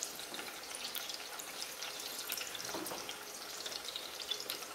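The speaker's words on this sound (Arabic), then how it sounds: "هاهم يقليو" Garlic frying in a pan, a steady close sizzle and crackle with small pops throughout, loud and without talk.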